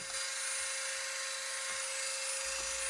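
A rotary grinding tool cuts protruding metal off a bolt on a wrestling belt plate, a continuous high-pitched whine close by, steady and loud throughout with no talk.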